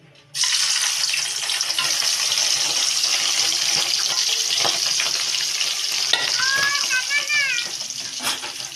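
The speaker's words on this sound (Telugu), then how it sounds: "నూనె అయితే హీట్ ఎక్కింది ఇప్పుడైతే నేను వేస్తున్నా చూడండి" Ingredients drop into hot oil for boti chutney and burst into a sudden loud sizzle that continues steadily up close, with a voice and chirpy sounds briefly heard near the end.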